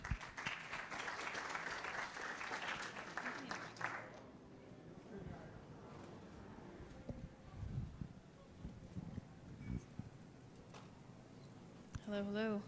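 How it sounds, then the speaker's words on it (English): A conference audience in Singapore applauds a speaker, steady dense clapping for about four seconds that then fades into faint room noise and a few quiet sounds. "So please give Elena a big round of applause."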